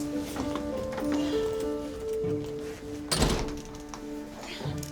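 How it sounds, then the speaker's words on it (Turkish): A door thuds shut in a Turkish TV drama household scene, one loud, solid thunk following a few seconds of quieter movement and room noise. "Kapat kapıyı kapat."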